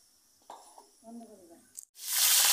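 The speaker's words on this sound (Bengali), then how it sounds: "কড়াই তেল দিয়ে দিচ্ছি, দিয়ে আলুগুলো আমি ভেজে নেব" A few quiet voiced sounds come first. Then potatoes hit hot oil in a wok and set off a loud, dense sizzle that keeps roaring to the end.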